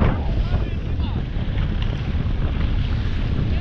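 Searider boat running on open water near Helgoland, a loud continuous engine drone mixed with heavy wind buffeting and wave noise.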